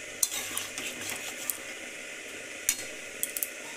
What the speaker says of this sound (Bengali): একটু কষিয়ে নেব, 3-4 মিনিট একটু কষিয়ে নেব।